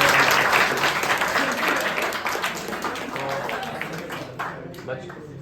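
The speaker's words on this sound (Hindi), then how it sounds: "जोरदार तालियां" Students applaud a NEET topper with a burst of crowd clapping that starts loud and gradually thins and fades toward the end, with a voice faintly present beneath.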